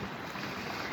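Cold wind at a lakeside beach buffets the microphone in a steady, loud rushing roar, a brief continuous blast with no voices.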